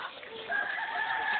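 A chicken gives a brief, fairly close crow or clucking call lasting just over a second, rising and holding in the last half, with a faint voice in the background.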